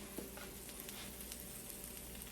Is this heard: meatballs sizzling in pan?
yes